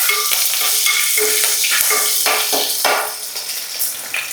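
Fish curry with five or six slit green chillies being stirred in a frying pan, a steady sizzle overlaid with repeated scraping strokes of a spoon, close and fairly loud with no talking.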